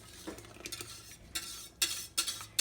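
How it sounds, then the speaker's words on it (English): Liquid thickener whisked into osso buco sauce in a pan, with rapid metallic scraping and clinking strokes that come in short bursts and grow louder toward the end, with no talking. "I'm going to take it off and I'm going to whisk it right into my sauce here over here."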